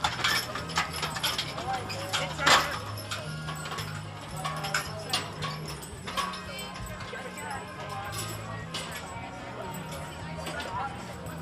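Horse hooves clip-clop and a wagon rattles as a stagecoach pulls out at an Old West harvest fair, with uneven knocks and mechanical clatter under a steady backdrop of people talking.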